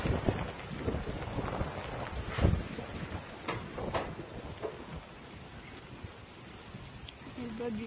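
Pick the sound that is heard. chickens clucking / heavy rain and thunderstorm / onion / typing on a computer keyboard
heavy rain and thunderstorm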